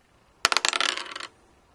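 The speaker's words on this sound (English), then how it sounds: "Rolling dice." Dice clatter briefly on a hard surface, a sharp first hit followed by a quick run of rattling bounces that dies out within a second, close and alone.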